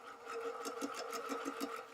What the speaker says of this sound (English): So you're going to line up your seam onto your sewing machine.